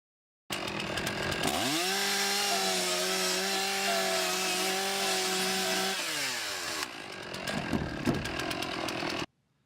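A power saw runs up to speed, then holds a loud, steady, high engine whine while cutting a smoke indicator hole through roof decking. The pitch sags and climbs near the end, then the saw stops abruptly.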